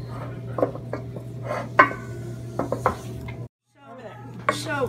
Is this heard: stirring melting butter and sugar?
yes